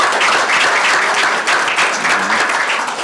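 Dense, steady applause from a large audience at a legislative town-hall forum, loud and continuous throughout with no speech over it.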